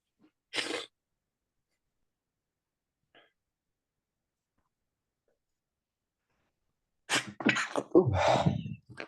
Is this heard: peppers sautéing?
no